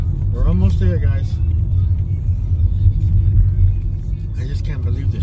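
Steady low engine rumble from inside a car creeping through heavy traffic, a constant drone throughout with people talking over it.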